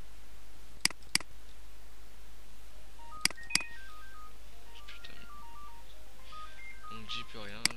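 Telephone keypad dialing tones come as a few sharp, separate beeps in pairs, then a quick run of tones near the end, with quiet talk and faint background noise beneath.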